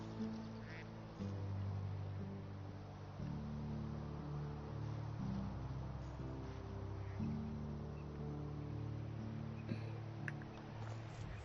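A duck in the Medieval Dynasty video game quacks repeatedly in close, nasal bursts at an uneven rhythm over quiet game ambience.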